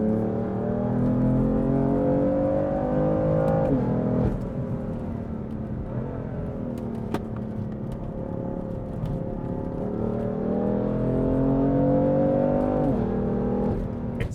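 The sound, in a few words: sports car accelerating and shifting gears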